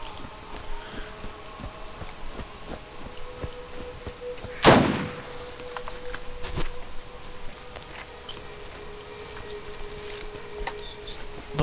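A revolver in a video game fires a single sharp, loud shot midway through, set against a low steady game ambience with no speech.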